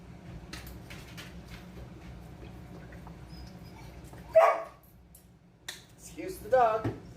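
A dog gives a couple of short, sharp barks and yips over quiet kitchen background noise, fairly close.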